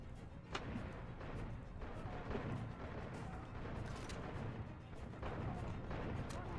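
Explosions and gunfire in a PC video game being tested, heard as a dense, continuous wash of booms and crackling blasts with sharp bursts throughout, loud and steady with no clear gaps.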